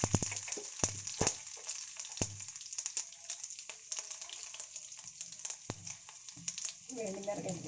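Garlic dropped into hot oil for a tempering, frying and sizzling with faint crackles, joined by brief clatters of utensils, with a fresh burst of sizzle near the end.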